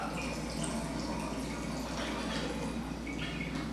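Filtered well water pours steadily into a bottle as it is topped up, a continuous soft, trickling fill of moderate level throughout.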